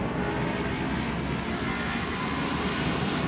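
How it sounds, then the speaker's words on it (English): Airplanes climbing after takeoff and passing over the Kampung Pelangi neighbourhood of an Indonesian city produce a steady, fairly loud engine roar that rumbles on without a break and without talk. "the planes are just kind of starting this way and just flying over Kampung Pelangi."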